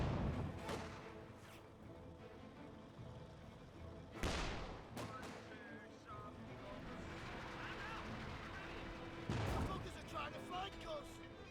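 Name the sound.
artillery fire in video game Company of Heroes 2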